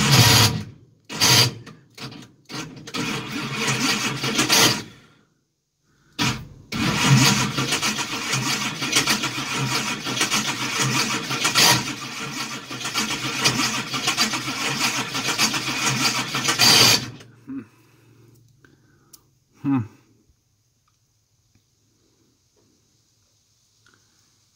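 High-torque starter cranking a 632 big-block Chevy with aluminum rods, a few short bumps then a long sustained grinding crank of about ten seconds that cuts off into near silence with a faint click.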